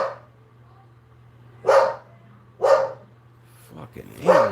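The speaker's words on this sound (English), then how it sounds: "Can you make that dog stop barking, please?" A dog barks three times at spaced intervals, each sharp bark standing out clearly over a low steady hum, with faint indoor noise between.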